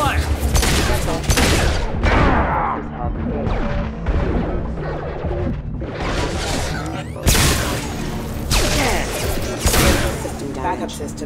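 Heavy gunfire in a Mass Effect 2 firefight, loud and dense with overlapping shots, impacts and crashing booms in repeated bursts over roughly eleven seconds.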